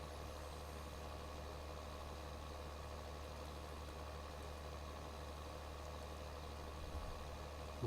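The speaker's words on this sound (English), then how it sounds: "Engine's revving up." A steady, droning tractor engine hum holds at a constant level, with a slight rise in intensity near the end, in Farming Simulator 2013.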